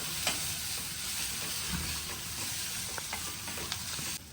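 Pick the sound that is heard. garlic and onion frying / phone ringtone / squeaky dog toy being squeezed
garlic and onion frying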